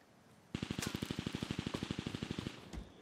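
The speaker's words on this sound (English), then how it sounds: "Somebody else is shooting them now." Gunfire in the Call of Duty Warzone video game: a single rapid automatic burst of about twenty evenly spaced shots lasting two seconds, loud and close, then a brief trailing echo.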